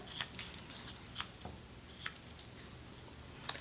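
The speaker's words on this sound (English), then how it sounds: "Being very careful with the scissors as I use them." Quiet scissors snip a few times, with sparse, sharp cuts spaced apart over a soft background.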